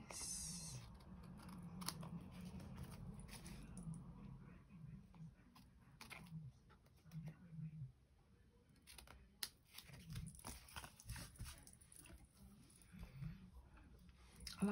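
Scissors trim the edges of old paper prints for a junk journal, giving quiet close snips and crisp paper rustles with brief pauses between cuts, all at low volume.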